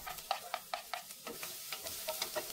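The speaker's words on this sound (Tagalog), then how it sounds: "Magsulot na natin yung bawang." Garlic sautéing in a pan of oil and melted butter, with a spoon stirring in quick scraping strokes over a soft, steady sizzle, fairly quiet and close.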